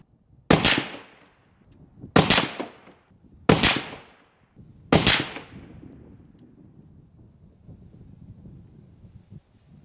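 Four loud, sharp rifle shots with hunting ammo through a Liberty Sovereign suppressor crack at uneven intervals, each a hard thump that fades quickly, leaving outdoor wind and low rumble behind.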